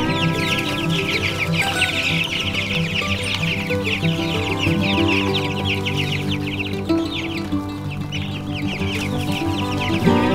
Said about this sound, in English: And then for the meat birds.